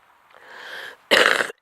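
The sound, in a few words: cough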